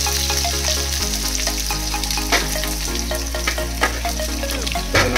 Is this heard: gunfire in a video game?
no